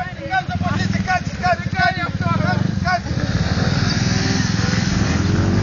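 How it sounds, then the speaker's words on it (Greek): A small two-stroke brush cutter engine drones and revs under excited shouting, its buzzing note rising to a sustained high-pitched whine in the second half. "Χορτοκοπτικό."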